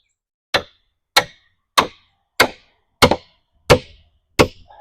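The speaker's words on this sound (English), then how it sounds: "got this little mini 2 or 3 pound sledgehammer" A small 2 to 3 pound mini sledgehammer strikes seven times at a steady, even pace during the building of a raised garden bed, each blow a sharp, close, loud thud with a short decay.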